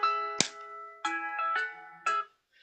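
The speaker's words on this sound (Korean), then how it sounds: "인도에서 전화 왔어요." A phone ringtone for an incoming call plays a short series of bright electronic tones in separate bursts with brief pauses between them.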